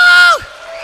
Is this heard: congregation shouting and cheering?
yes